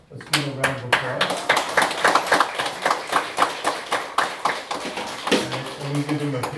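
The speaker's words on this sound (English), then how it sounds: "Let's give them a round of applause." An audience at an afternoon community picnic concert applauds a band, steady rhythmic hand clapping from a modest crowd that carries on for several seconds.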